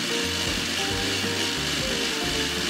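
A kitchen blender grinds shallots, garlic, chilies and candlenuts into a curry spice paste, making a loud, steady whirring roar that shifts slightly in pitch as the contents churn.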